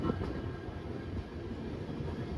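Steady low rumble of several idling locomotives standing without a train at night near Dudhsagar Falls, Goa, a continuous heavy drone with no breaks.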